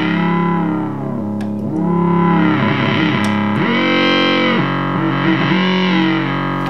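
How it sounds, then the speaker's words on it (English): A restored Moog synthesizer with oscillator sync, oscillator 1 synced to oscillator 2, producing loud, buzzy held tones with sweeping, shifting timbre and changing pitches, heard alone with no voices. "set it to sync, oscillator sync, which is actually going to sync oscillator 1 with oscillator 2"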